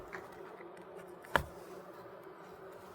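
A wild honeybee swarm buzzes from behind old wax comb in a cavity, giving a steady, moderately faint hum throughout with one brief sharp knock near the middle and no talking.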